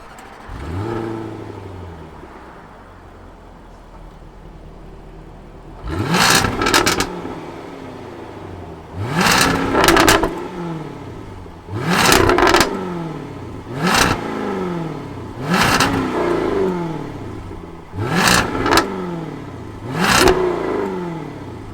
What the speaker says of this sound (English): why don't we fire this up and hear what the F-Type R sounds like